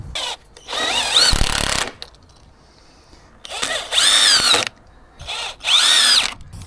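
A power drill whines in three bursts, its motor pitch rising as screws drive through wood offcuts into boards, with quiet pauses between.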